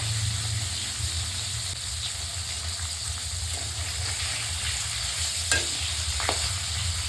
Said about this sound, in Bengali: তো সুন্দর করে আমি মাছগুলো ভেজে নেব, সবগুলো এক এক করে